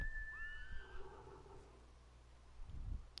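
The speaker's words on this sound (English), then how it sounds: "you have a horse that you can call that just comes out of literal nowhere" A horse in the video game Ghost of Tsushima neighs when called, a clear high whinny with a wavering, falling tail, followed by low thuds and game ambience.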